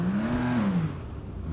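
Vulcar Nebula Turbo car engine revving in GTA Online, a short rising and falling rev lasting under a second over a steady close engine drone, with no voices.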